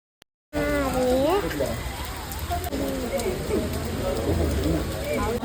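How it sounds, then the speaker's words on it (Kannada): Heavy rain pours steadily at close range during a family temple visit to see Gomateshwara, a dense constant hiss of drops under continuous talking from people nearby. "ಮಳೆ ಜಾಸ್ತಿ ಆಗುತ್ತೈತೆ ರೀ ಗೈಸ್."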